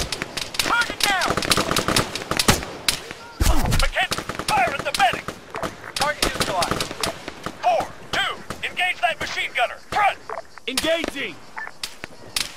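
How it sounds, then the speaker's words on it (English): Machine gun fire in the ARMA 3 military shooter game, with rapid bursts and single shots crackling near and far throughout, overlapping one another, while voices shout over the firefight. "Martinez, engage that machine gunner, front!"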